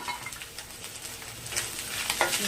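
Turmeric stirred into ginger paste frying in a pan, a soft continuous sizzle with scraping spoon strokes, close and fairly quiet with no voices.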